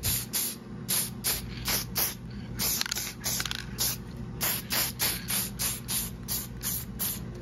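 Aerosol top coat finish sprayed onto a repaired chair leg in short repeated bursts, roughly a dozen quick hisses in a steady rhythm, close and fairly quiet.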